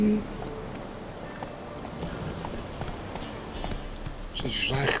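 Horse hooves clopping along in The Witcher 3, a quick continuous run of muffled beats under low ambient noise, with a brighter clatter near the end.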